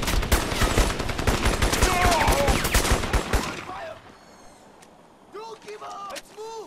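Machine gun fire in the shooter Crysis, a rapid sustained burst of loud close shots for several seconds, then cutting out as voices talk over quieter background sounds.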